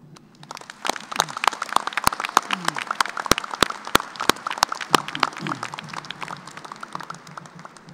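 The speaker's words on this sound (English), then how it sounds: "Will you join me in a round of applause to thank them?" A commencement audience applauding, many hands clapping in a dense, uneven patter with sharp individual claps standing out, while voices murmur underneath throughout.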